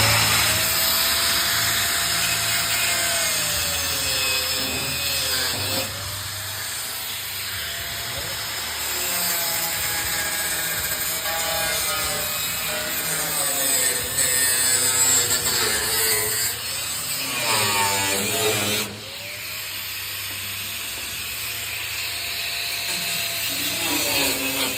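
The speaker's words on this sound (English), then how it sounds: "So I'm making relief cuts in here." A power saw grinds steadily while making relief cuts in the sunken floor of a 1950 Mercury, loud and close, with someone talking over the cutting throughout.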